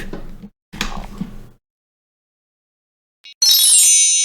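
A brief murmur of voices, a pause, then a bright electronic computer lock alert chime rings out sharply and keeps sounding to the end.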